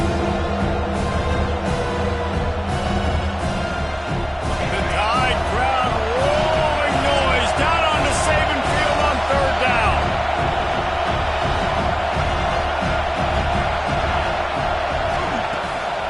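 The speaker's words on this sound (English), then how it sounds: "how nice is it to have the home crowd going absolutely bananas" At a college football game between Auburn and Alabama, a big stadium home crowd roars continuously and loudly, a dense wash of cheering that stays high throughout while commentators talk over it.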